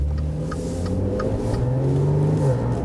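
Maserati Levante S Q4 SUV with a 3.0-litre V6 accelerating in sport mode, its engine rising in a steady, smooth growl heard from inside the cabin.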